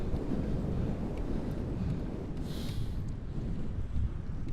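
Steady, loud wind buffets the microphone of a bicycle rider heading to Giethoorn, a dense continuous roar that barely lets up across the whole stretch, with no talk.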